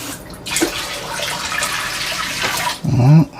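Water runs steadily into a tub to rinse out bleach residue, a broad continuous splashing rush that fills most of the stretch, then a brief louder gurgling surge near the end.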